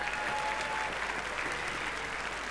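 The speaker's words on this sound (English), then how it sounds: "Can we all put our hands together and make some zordar noise over here" Audience applause with steady hands clapping at a charity fashion show, a dense, continuous wash of many clappers throughout, loud and sustained with no pauses.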